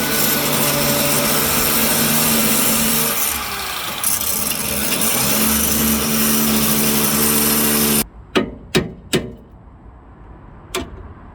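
A loud, steady power tool grinds through a steel drop link on a Honda Civic's suspension for about eight seconds, then cuts out, leaving several sharp metallic knocks and clanks of parts falling.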